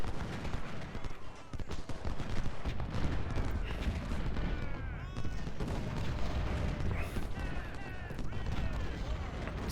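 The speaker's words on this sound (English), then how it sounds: "We got the artillery." Distant artillery fire echoes across a Civil War battlefield in Ultimate General: Civil War, with repeated booms and crackling volleys layered over a dense, continuous din of gunfire.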